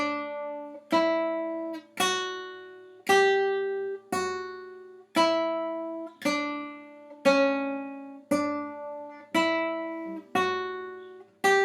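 The guitar melody line of a song is played as a slow run of about eleven plucked notes, each ringing clearly and fading before the next, evenly spaced and close.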